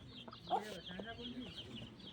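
A rooster clucks softly in short, faint bursts close by, with a person speaking quietly underneath.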